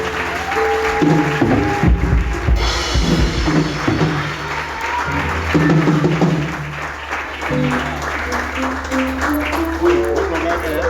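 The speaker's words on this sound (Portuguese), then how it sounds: "Uma salva de palmas." A church congregation applauds after a sermon, a loose patter of clapping under sustained musical keyboard tones and some voices.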